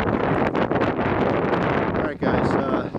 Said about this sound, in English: this is extremely windy conditions. I mean, it's really windy